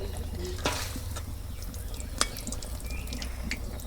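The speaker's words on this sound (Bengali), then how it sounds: "এই দেখো আবার পিঠা ভাজা নিলাম এক এক করে" Pitha cakes fry in hot oil with a steady sizzle, broken by a few sharp clinks and scrapes of a utensil against the pan; no one speaks.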